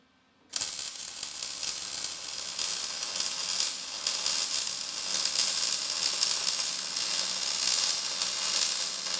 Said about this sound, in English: let's weld it up.